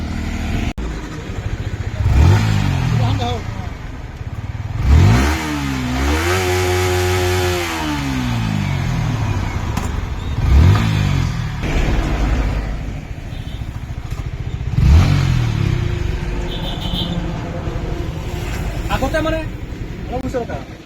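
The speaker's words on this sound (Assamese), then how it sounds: "ত' এতিয়া মই গাড়ীখন অলপ টেষ্ট ৰাইড কৰি চাওঁ কেনেকুৱা লাগে।" A Yamaha R15 V4 motorcycle, freshly serviced with 10W-40 synthetic oil and a new filter, revs up repeatedly in rising bursts, with a sustained climb midway through. A voice talks over the engine.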